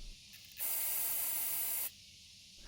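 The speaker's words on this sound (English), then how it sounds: "then use some carb cleaner on it" Carburetor cleaner sprays onto a pressure washer carburetor in a single loud hissing burst of a little over a second, set against quiet background noise.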